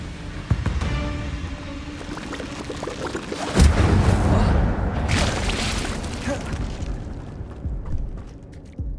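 Incendio fire spell cast in Hogwarts Legacy: a sudden loud whooshing burst of flame erupts mid-clip after lighter game sounds, then a roaring, crackling wash of fire fades slowly over several seconds.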